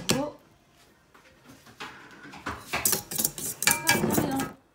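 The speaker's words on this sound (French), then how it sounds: "On ajoute ensuite notre farine tamisée. Et on mélange de nouveau." A utensil clinks and scrapes against a bowl as sifted flour is folded into cake batter for a Nutella roll cake, in irregular close knocks that grow busier and louder toward the end.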